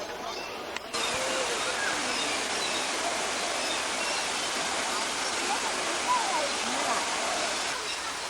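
A 30.5 meter high waterfall at a large walking aviary roars as a steady, dense rush of falling water that fills the scene, with faint bird calls possible behind it.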